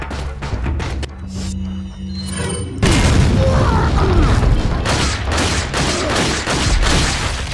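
A grenade blast in the video game Resident Evil 4: a loud booming burst erupts partway through, followed by sustained rumbling, crackling debris and gunfire-like clatter in a chaotic combat mix.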